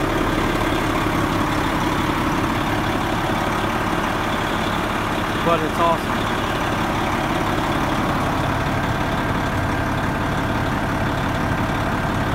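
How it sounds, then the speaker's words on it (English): A 1999 Oshkosh 4x4 dump snow plow airport truck sits idling with a steady, heavy low rumble throughout, while someone talks over it. "This is a huge truck."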